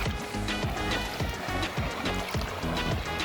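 People swim and splash in a village pond, producing repeated rhythmic watery slaps and churning close by, continuous through the short stretch.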